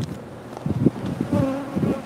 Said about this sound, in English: These are all remnant bees.